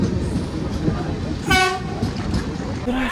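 The Samudra Kanya Express (22889) leaves Contai station on the Digha to Puri run, its horn sounding one short, clear toot over the steady rumble of a crowded carriage.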